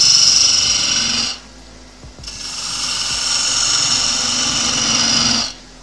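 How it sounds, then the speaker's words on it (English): A 3/8 gouge cuts into an ash wood vase spinning on a lathe, a loud steady tearing hiss in two long passes with a short quiet break between them. "So I'm going to use the 3/8 gouge."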